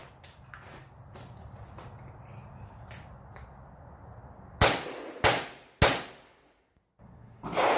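Three sharp suppressed shots from a Steyr AUG rifle with a modified gas system, fired in quick succession at close range, each with a short decaying tail after a quiet stretch of ambient noise.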